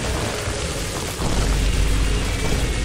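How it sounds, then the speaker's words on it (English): Bombs detonating in the game The Binding of Isaac while playing as Tainted Jacob, heard as a loud, continuous low booming rumble that swells after a brief dip, with no speech over it. "Now I'm gonna start spamming bombs."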